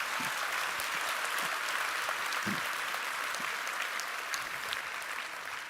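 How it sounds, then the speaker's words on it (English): Steady, dense applause from a large audience in a conference main hall, a continuous wash of clapping that holds evenly and fades slightly at the end, with no talking. "Round of applause. They deserve it."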